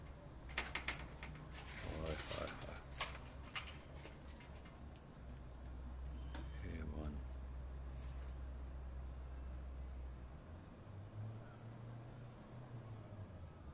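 Pigeons coo softly on a rooftop, a few low throaty calls heard amid faint background noise and brief clattering, with a low engine-like rumble later.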